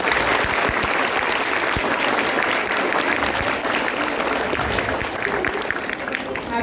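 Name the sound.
audience clapping at school Navratri assembly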